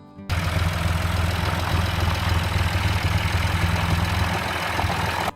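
A tractor's 3.6-litre three-cylinder diesel engine of about 45 horsepower starts up and idles steadily nearby, a loud, even low rumble with fine rhythmic knocking that holds unchanged throughout.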